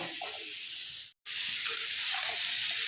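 A vegetarian curry of potato, eggplant and greens stems sizzles in a kadai with radhuni and panch phoron, giving a steady, close hiss of frying oil that stops briefly once before carrying on.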